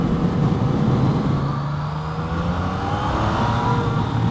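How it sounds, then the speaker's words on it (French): A 2015 Yamaha MT-09 motorcycle engine hums loudly and steadily from close by, rising gently in pitch as it revs, with wind rushing over it. "le moteur est sacrément puissant"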